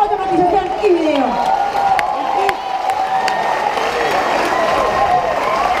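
Loud audience applause and cheering at a live Fuerza Bruta DJ night show, continuous clapping with whoops and crowd noise, a voice calling out over it.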